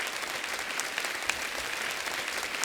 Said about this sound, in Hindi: एक बार जोरदार तालियां हो जाए मंदाकिनी जी के लिए